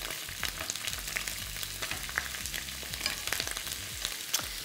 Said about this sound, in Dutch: terwijl die worstjes bakken